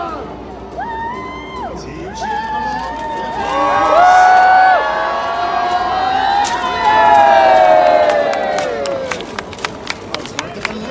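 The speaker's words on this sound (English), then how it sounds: "Team cheering along." Team supporters cheering and shouting in a crowd at a jousting event, rising in two loud swells over announcer talk, with sharp claps and knocks near the end.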